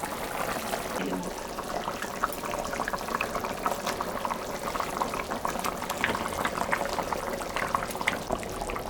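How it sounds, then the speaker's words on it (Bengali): Mrigel fish curry at a rolling boil in a covered pot, a dense bubbling and spluttering that carries on steadily at close range, with a faint clatter as the lid comes off. "ঝোলটা ফুটে গেছে, ঢাকাটা তুলে নেব।"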